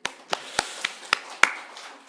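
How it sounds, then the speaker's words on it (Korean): Six sharp, evenly spaced hand claps ring out during a Sunday morning church service in Ulsan, loud and distinct against a quiet room with no talking. "박수."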